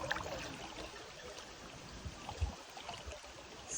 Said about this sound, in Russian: Вода очень мощная стихия.